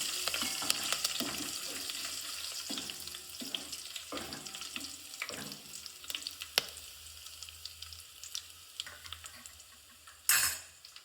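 Curry leaves and bay leaves dropped into hot oil for Gujarati dal dhokli give a steady, moderate sizzle with scattered crackles and a sharper burst of spitting near the end, close by and with no talk.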